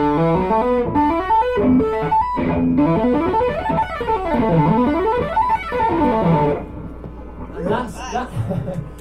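An electric guitar runs fluid octave lines, notes sweeping up and down in rapid legato passages, loud and processed with effects, ending with a brief burst of audience murmur.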